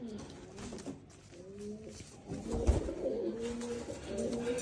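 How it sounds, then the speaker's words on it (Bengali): Rajshahi Giribaz pigeons cooing close by in soft, repeated throaty calls that overlap one another, with a brief louder thump partway through. "এই হলো হচ্ছে ছয়টা কবুতর, ঢাকার উদ্দেশ্যে পাঠিয়ে দিচ্ছি"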